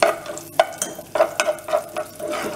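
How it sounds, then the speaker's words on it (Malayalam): Raisins are stirred in a hot frying pan, giving a quick run of rhythmic scraping strokes and light clinks over a faint sizzle, close and alone. "ഇനി നമുക്ക് മുന്തിരി ഇട്ട് കൊടുക്കാം ഇതൊന്ന് നമുക്ക് ഇളക്കി എടുക്കാം"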